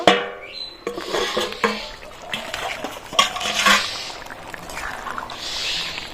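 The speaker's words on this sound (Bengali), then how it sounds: "একটু নাড়াচাড়া করে দেব" Chicken curry being stirred in a pan, with soft scraping and clinks of a spoon against the metal and a faint sizzle, irregular and close, with no talk.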